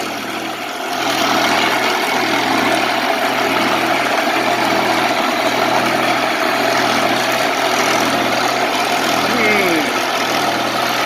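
A homemade electric drive motor for a small sailboat runs with an unbalanced shaft, turning in reverse, giving a steady, loud, continuous hum and whir close by for the whole stretch.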